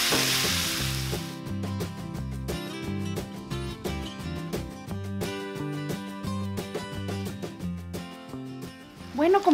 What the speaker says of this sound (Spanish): vamos aquí a sofreír más o menos hasta que la carne esté bien sellada